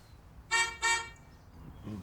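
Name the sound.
car horn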